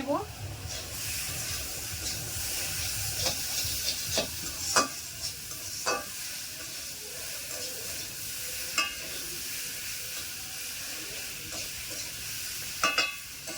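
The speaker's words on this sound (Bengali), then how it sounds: "বেগুনটা দেওয়ার পরে কিছুক্ষণ কষিয়ে" Eggplant with spices sautéing in a pan, a continuous sizzle broken by repeated sharp spatula scrapes and knocks against the pan, quite close, with a little speech in places.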